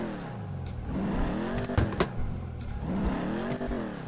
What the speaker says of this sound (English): when that turbo spools, you can hear that